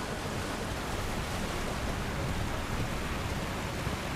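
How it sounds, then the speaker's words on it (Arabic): A waterfall in Elden Ring sends out a dense, loud, unbroken roar like heavy rain, constant for the whole stretch with no voices. "شلالات شلالات."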